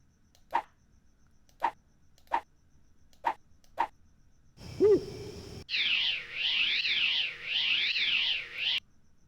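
A bird hooting outside in the computer game Gahan Wilson's Ultimate Haunted House gives five evenly spaced, soft hoots, then a short burst and a warbling, pulsing electronic tone follow.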